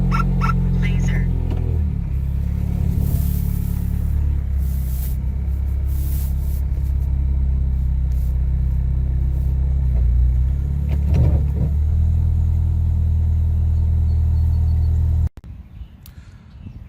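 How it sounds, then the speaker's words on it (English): A Scion FR-S sports car engine starts and idles steadily with a deep, even rumble, pulling out of a garage, until the sound cuts off abruptly near the end. "let's fire this thing up, pull her out of the garage"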